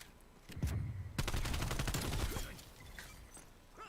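Gunfire in a shooter video game, where a shotgun is in use, comes as a burst of rapid loud shots near the start and then trails off into fainter scattered reports.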